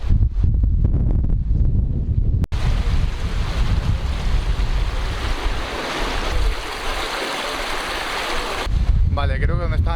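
Floodwater from the Valencia DANA storm pours along a service road beside the A3 motorway, a loud, continuous broadband rush mixed with wind buffeting the microphone, steady for most of the stretch before a voice briefly joins at the end.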